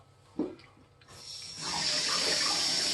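Running tap water splashing over fresh farmer's market produce in a sink, starting with a few light knocks before a steady, fairly close rush of water fills the rest.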